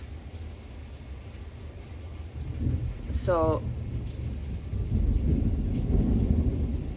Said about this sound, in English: There's a lightning and thunder, and it's pouring